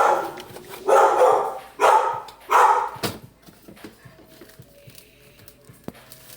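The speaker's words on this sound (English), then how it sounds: "We're going to need the dog barking." A dog barks three or four times in a loud close burst, then goes quiet with only faint room sounds and a small click afterward.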